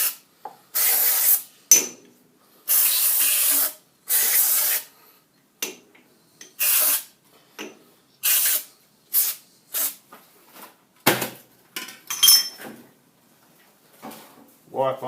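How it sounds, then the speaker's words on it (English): Aerosol can sprayed lightly onto a lathe tailstock chuck mount, several short close hissing bursts with gaps between, mixed with a few rattles and handling noises. "And just a light spray."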